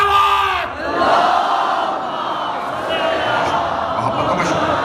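A large crowd at a Muharram religious gathering at Karbala Gamay Shah in Lahore chants slogans in unison, a loud, roaring mass of voices that dips briefly and then surges again and holds.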